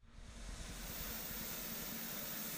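Ultrasonic cleaner running while heating carburettor parts from a 1991 Suzuki GSX750F Katana, a steady broadband hiss with a low hum that swells in and then holds constant, faint and alone.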